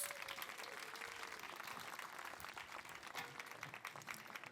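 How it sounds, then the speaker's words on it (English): An audience claps for the speakers at a youth event. The applause is faint and steady, with a little crowd noise and no speech. "Please give these powerhouse women a round of applause."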